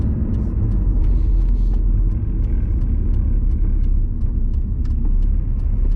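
A car rolls along a road on an air force base, a steady loud low rumble close by with faint clicks and ticks over it and no talk.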